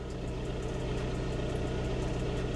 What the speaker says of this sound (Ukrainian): двигун більш-менш вирівнюватись починає